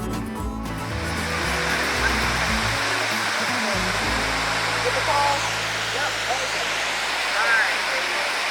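A waterfall pours in a steady, loud broadband rush at a Greenville riverside park, with faint voices mixed into the roar.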